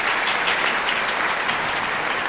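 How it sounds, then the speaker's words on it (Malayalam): Sustained audience applause from a crowd at a Malayalam motivational talk, dense and steady from start to finish with no voices over it. "നല്ലൊരു ക്ലാപ്പ് കൊടുക്കാം വീണ്ടും."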